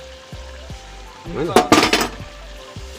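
Chicken frying in a pan as chopped tomatoes go in, giving a steady low sizzle that bursts into a loud crackling hiss for about half a second, then settles back down, with a brief spoken word and light utensil clinks.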